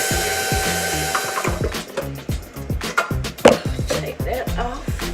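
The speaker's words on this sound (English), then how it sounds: "I'm going to scrape down the sides and give it another quick mix" An electric mixer whirs through pound cake batter in a quick burst, its motor buzzing steadily while the beaters knock and clatter rhythmically against the bowl at close range.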